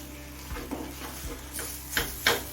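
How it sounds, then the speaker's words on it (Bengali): Elephant foot yam stem mash stirred in a pan over a medium flame, a soft steady sizzle broken by several scraping strokes of a spoon, two sharper scrapes near the end, close and moderately loud. "এবার মিডিয়াম ফ্লেমে একটু শুকনো শুকনো হয়ে আসা পর্যন্ত রান্না করে নেব"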